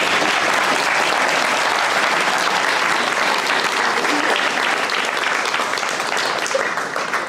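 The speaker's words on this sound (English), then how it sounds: "how about another round of applause for California Class 1000?" Steady, dense applause from an audience at a guide dog graduation ceremony, sustained and fairly loud throughout before thinning slightly near the end.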